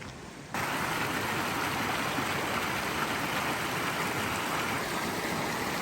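A mountain stream rushes steadily past a log bridge on a high Colorado trail, a close, continuous broadband gush of flowing water that starts abruptly and holds at an even loudness, with no voices.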